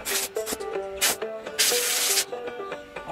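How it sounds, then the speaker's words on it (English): An air compressor line blows dirt out from under a toy truck cab, giving repeated loud hissing bursts of air, including one long blast, mixed with rubbing and scraping handling noises close by. "Let me get the air compressor line in. Blow the dirt out from under that there."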